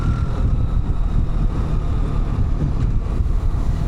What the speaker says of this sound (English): I don't want to just constantly be hearing that, almost a tractor-like sound here from this bike.